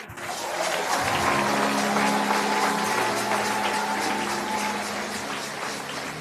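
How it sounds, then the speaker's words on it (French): A congregation at a church conference in Lagos claps and cheers, a broad sustained wash of applause with a steady humming tone beneath, swelling early and easing slightly toward the end. "Applaudissez et célébrez."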